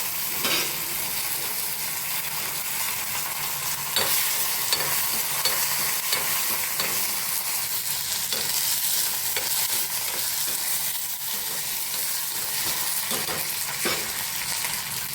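Tempering of urad dal, chana dal, cumin, mustard seeds and dried chillies frying in oil in a pan, a steady close sizzle with occasional crackles and pops throughout, no talking.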